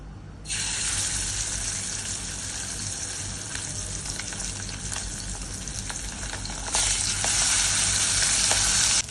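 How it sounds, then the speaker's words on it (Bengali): Loud, close sizzling of pabda fish frying in oil starts abruptly and hisses continuously, growing brighter near the end. "আমি মাছগুলো ভাজার জন্য ছেড়ে দিচ্ছি।"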